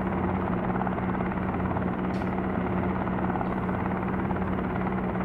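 A helicopter rotor and engine in a helicopter simulator video game drone steadily and loudly with a constant hum and blade throb throughout, with no talking.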